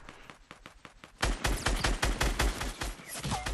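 Gunfire in the video game Fortnite: a few quieter shots at first, then a loud, dense burst of rapid overlapping shots from close by that keeps going to the end.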